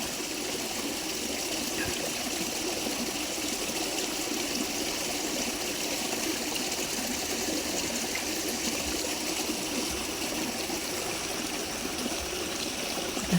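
A river flows past bamboo and trees at its bank, a steady, even rush of moving water that stays constant and moderately loud throughout, with no voices.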